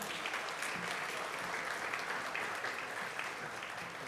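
Steady applause fills a school graduation ceremony hall, congratulating award-winning Secondary 6 students, a dense, even clapping that holds for about four seconds.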